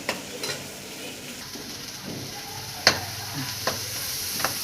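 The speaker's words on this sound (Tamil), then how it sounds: "வெங்காயம் போட்டு நல்லா வதக்கிக்கோங்க" Onions sauté in a hot pan while being stirred, a steady sizzle under occasional scraping and clinks of a spoon against the pan, close by with no voices.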